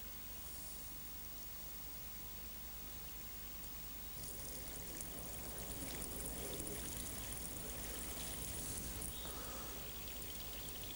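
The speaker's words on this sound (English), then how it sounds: "What we do now is pour the water through this and collect at the other end." Water poured through an improvised sock filter layered with charcoal, sand and moss, heard as a soft continuous trickle and splatter that grows fuller partway through, quiet and close with no talking.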